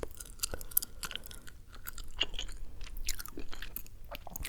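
Intense, wet gum chewing close to the microphone, with continuous smacking, clicking and snapping bursts in an irregular rhythm, fairly quiet and with no talk.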